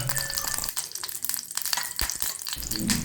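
About a spoonful of ghee melts in a pan with a continuous close crackling sizzle and spitting, loud and steady for the whole few seconds.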